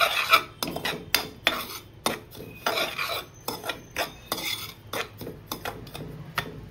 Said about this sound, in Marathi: मी एकीकडे रवा भाजत ठेवलाय